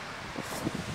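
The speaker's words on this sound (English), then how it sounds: "It's like 30, 40 mile an hour winds and I'm running straight into the wind." Strong outdoor wind gusting at 30 to 40 mph, a steady broadband roar buffeting the microphone with a few louder rumbling bursts, no voices.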